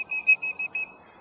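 A duck call used as a plain whistle gives a string of short, sharp, high-pitched whistles, about five quick notes, close and clear against silence.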